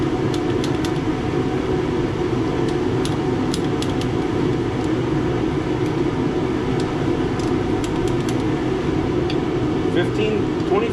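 A garage heater runs as a steady, loud mechanical hum and whir throughout, a constant blower-like drone with faint clicks above it and talk over the top.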